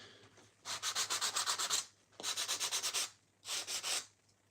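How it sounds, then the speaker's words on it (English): A sanding brick rubs hard against a surface in a skateboard workshop, in three bursts of rapid, rhythmic scraping strokes. The strokes are close and loud, with short pauses between the bursts and no talk. "There are two types of sanding bricks, one to get the most of it off."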